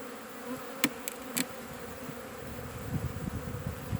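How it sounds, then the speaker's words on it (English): Honey bees in a hive during a demaree inspection, their buzzing low and sparse, with a few sharp knocks near the start and soft handling noises later. "there's far fewer bees down here, as expected"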